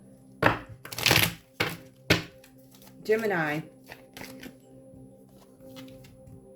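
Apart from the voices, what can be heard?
shuffling tarot cards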